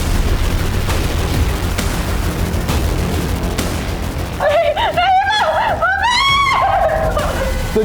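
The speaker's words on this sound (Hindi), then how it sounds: "ये चीख सुनाई दी किसकी है?" A woman's scream, high and wavering, rises out of a loud dramatic crime-show scene with booming, rumbling background sound, lasting a few seconds near the end.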